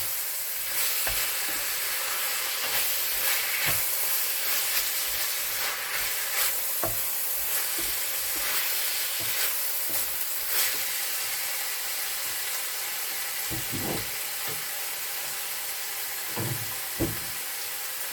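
Food frying in a pan at home is stirred with a steady background sizzle, broken by scattered scrapes and clacks of the utensil against the pan, close and fairly even throughout.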